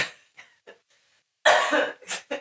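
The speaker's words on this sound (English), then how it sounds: "The coughing attacks in public spaces." A few faint throat sounds, then a burst of harsh, close coughing in two or three quick hacks.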